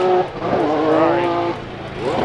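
A Formula Drift car's engine revs hard and close, its exhaust note rising and falling in quick, throaty sweeps.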